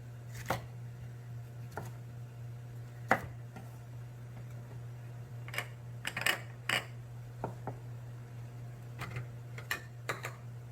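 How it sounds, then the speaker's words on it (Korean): Knife cutting green bell pepper into thin strips on a cutting board, a scattering of sharp close taps and chops at an irregular pace over a constant low hum. "그리고 피망도 썰어줍니다"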